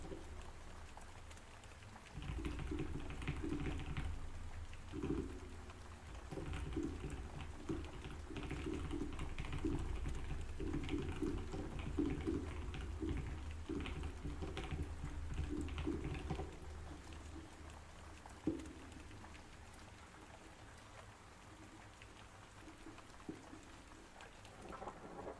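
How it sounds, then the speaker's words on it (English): Soft steady rain on a surface under light, irregular tapping like keyboard typing, quiet and continuous with no voices. "I'm also trying out a new rain sound video"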